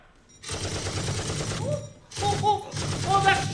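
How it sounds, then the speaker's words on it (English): Rapid bursts of gunfire from pursuing police, two rattling volleys separated by a short gap, loud and close, with some tonal chirps mixed in. "Oh, they're shooting!"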